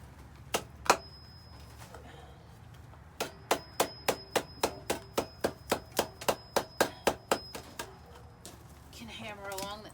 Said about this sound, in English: hammer along the edge like that.